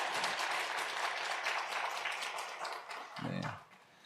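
A church congregation claps in celebration during a Sunday worship service, applause filling the room for several seconds before fading.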